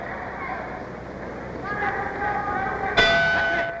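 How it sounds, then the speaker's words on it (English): A boxing ring bell ending round 4 at a 1960 welterweight title fight, a single sharp clang ringing out over a broadcast commentator's voice and crowd murmur. "there's the bell ending round 4"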